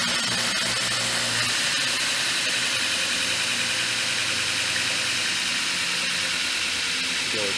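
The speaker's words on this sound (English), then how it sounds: "Let me grind that down." A newly built belt grinder runs continuously at close range, a loud, steady broadband whir with a rough, gritty texture that holds without pause throughout.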